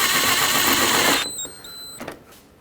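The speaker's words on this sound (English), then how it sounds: "Right on the headlight brackets here, there were 7mm screws. Let's reinstall these." Power driver spinning 7mm screws back into the headlight brackets of a 2007-2009 Saturn Aura, a steady whirring burst of about a second that cuts off, followed by a faint clatter.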